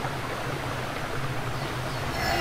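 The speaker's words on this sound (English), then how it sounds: "This is the source of the garden's waterfall." A garden waterfall in the video game Dark Parables 9: Queen of Sands pours as a steady, broadband rushing wash of water, constant and fairly loud throughout, with no speech over it.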